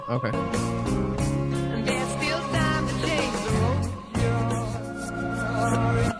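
A TikTok song played in reverse, with smeared swelling tones and warped, unnatural-sounding vocals running throughout at a steady loud level.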